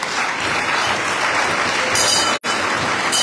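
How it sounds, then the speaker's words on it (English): Crowd giving a round of applause for teachers at a public address by Sierra Leone's President Julius Maada Bio, a loud, sustained roar of many hands clapping, broken once by a brief dropout before resuming. "can I create your indulgence to give a round of applause to our teachers"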